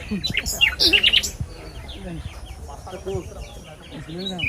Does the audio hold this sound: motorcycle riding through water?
no